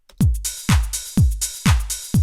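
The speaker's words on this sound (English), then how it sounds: "Some simple classic house drums" A punchy four-on-the-floor house drum beat: deep kicks on each beat with crisp hi-hats and claps between, repeating steadily with no voices.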